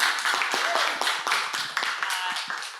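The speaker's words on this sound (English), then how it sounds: "Give up some round of applause for Katie." Small room audience clapping for a presenter named Katie, a thin scatter of hand claps with uneven rhythm, moderately close and fairly quiet, no talk over it.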